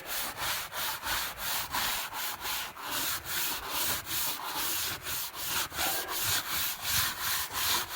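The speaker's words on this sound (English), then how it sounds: "Once I've rubbed this, another little go with a bleach will probably help." A hand scrubs plastic garden furniture in quick, even back-and-forth strokes, with about two rasping rubs per second, close and steady with no voices.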